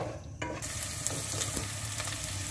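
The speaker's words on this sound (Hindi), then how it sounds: "प्याज जो है वो हम सौते कर रहे हैं इसके अंदर" Chopped onions sautéing in oil in a pan while being stirred, a steady close sizzle with a few scraping clinks of a spoon against the metal over about two and a half seconds.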